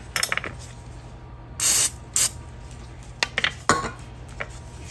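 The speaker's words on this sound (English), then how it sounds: "I take some Pam cooking spray and I spray it into it" Pam cooking spray hisses into a measuring cup in a kitchen, a couple of short close aerosol bursts among light clinks and taps of dishes and utensils.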